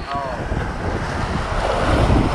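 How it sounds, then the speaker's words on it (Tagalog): Strong wind gusts by the sea at Calubakan, roaring into the microphone over surf and water sounds, loud and continuous with no talk. "Lakas na hangin na yan."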